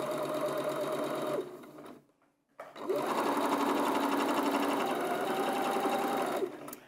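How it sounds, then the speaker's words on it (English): A sewing machine stitches a quarter-inch patchwork seam, running steadily and loudly alone, pausing briefly midway before resuming at an even whir until it stops near the end. "I'm going to take them to the sewing machine, and I'm going to sew a quarter inch seam all the way down there"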